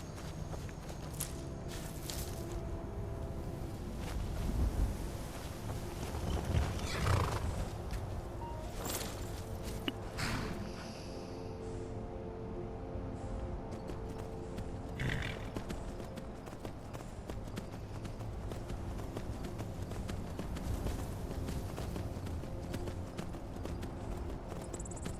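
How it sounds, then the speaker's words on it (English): Horse hooves clip-clopping at a steady walking pace in the video game Skyrim, a moderate repeated rhythm over an outdoor ambience, with a few sharper knocks and brief louder swells along the way. "And my horse."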